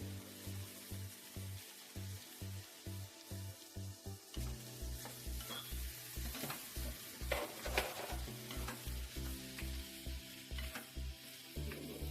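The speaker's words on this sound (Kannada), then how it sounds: "ಇವಾಗ ಮಶ್ರೂಮ್ ಹಾಕೊಳ್ಳೋಣ" A quarter kilo of mushrooms stir-fried in a pan for mushroom fried rice gives a steady sizzle broken by repeated rhythmic scraping strokes of a spatula, close and moderately loud, with no voices.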